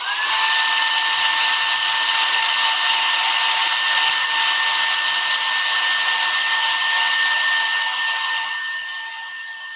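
A handheld hair dryer blows steadily at close range during a papercraft project, a loud continuous whoosh with a sustained whine that runs nearly ten seconds before tapering off at the end.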